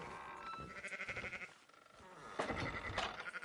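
Sheep in the Red Dead video game bleat several times in a row, wavering calls that overlap and swell, loud and close.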